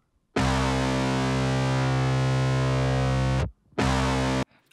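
Dirty, heavily distorted synth loops from the Output Arcade plugin, synced to a beat: a thick, buzzing sustained chord runs for about three seconds, cuts out, then returns briefly, loud and alone with no talking.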